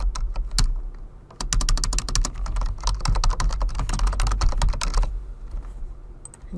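Fast, steady clicking on a computer keyboard as a report title is entered, a loud, close, continuous patter of keystrokes that stops abruptly near the end, with no speech.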